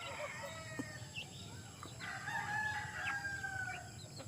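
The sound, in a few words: chicken crowing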